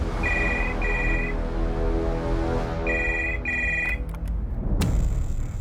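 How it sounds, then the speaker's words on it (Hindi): A telephone rings during a call in a police crime drama, with two pairs of clear electronic trilling bursts over a steady background of dramatic music. "जबलपुर इस प्रेरणा पाल को फोन करते हैं"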